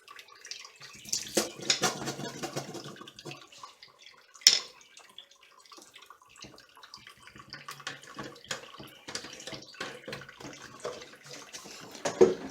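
Water splashes and runs while silver refining equipment is washed out, with faucet-like flow, drips and clattering vessels, close and uneven, including a sharp knock partway through.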